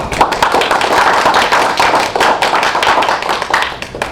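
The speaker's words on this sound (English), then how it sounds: "Could I have a round of applause for Mike?" A room full of people claps for a speaker at a speech evaluation meeting, loud and close, a dense flurry of individual hand claps sustained evenly throughout with no voices.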